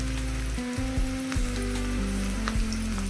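Food sizzles and fries steadily in a pan while salt and turmeric are added during the cooking, a continuous crackling hiss over a low tonal hum with a few soft stirring knocks.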